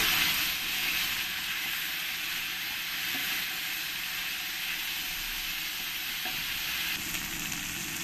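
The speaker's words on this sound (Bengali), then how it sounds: "এবার আমি মশলার মধ্যে একটু জল দিয়ে দেবো। দিয়ে ভালো করে আমি মশলাটাকে কষিয়ে নেব।" A cumin-coriander masala paste cooks down with added water for a mutton and potato curry, giving a dense, continuous hiss and sizzle at an even level with no pauses and no voices.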